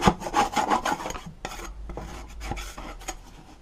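A lawn mower is scraped and rubbed clean by hand during a service, giving close, loud rasping and scuffing strokes in uneven bursts with a few knocks.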